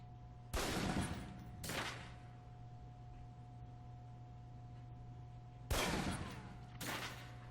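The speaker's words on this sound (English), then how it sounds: "Equip the pistol, then aim down range and take some shots at the target." Pistol shots fired down a range at a target in the Alpha Protocol spy game, four sharp cracks in two spaced pairs, loud and close over a steady low electrical hum.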